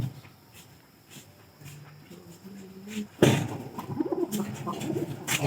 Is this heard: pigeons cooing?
yes